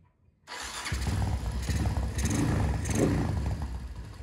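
A modified Honda Tiger motorcycle engine with a 72 mm stroke upgrade cranks and catches, then runs with a loud, rough, rumbling idle with slight ticking that rises slightly before settling; close and continuous.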